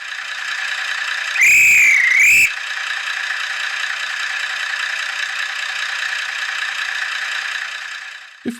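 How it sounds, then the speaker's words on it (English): A guard's whistle from the sound system of a Revolution Trains Class 128 model train: one loud, warbling blast lasting about a second over a steady idling engine hum that continues afterward. "The guard's whistle can be heard by using function 9."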